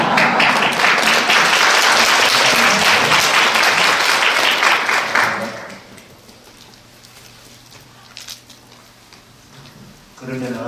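An audience claps loudly for a lecturer at a hall event, a dense burst of applause lasting about five seconds before fading into quieter room noise with a few scattered sounds.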